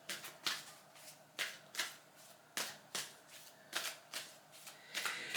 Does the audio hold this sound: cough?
no